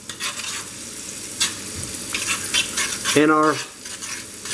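Butter sizzles in a pan at the start of a roux for a lamb mince pie, a close, steady frying crackle with utensil clinks and stirring scrapes, while a voice briefly speaks over it.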